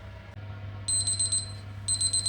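A digital BBQ meat thermometer's shrill electronic temperature alarm beeps in two rapid bursts of pulsing tones over a low steady hum.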